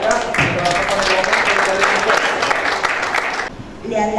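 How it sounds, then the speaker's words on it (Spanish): Crowd applause at a problem-solving workshop, steady dense clapping from a roomful of people for about three and a half seconds before it cuts off and talk resumes. "vamos a darle un aplauso a la mesa de atrás"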